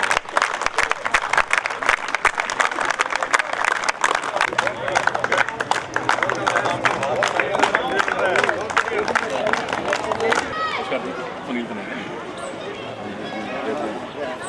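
Crowd applause fills a shooting ball championship venue, dense steady clapping for about ten seconds before easing into a thinner patter and background hubbub, with some voices mixed in.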